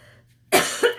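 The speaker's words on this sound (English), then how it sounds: "If I cough, it's my allergies. I apologize." After a moment of near silence, a single close, harsh cough bursts out, followed by a second shorter hack.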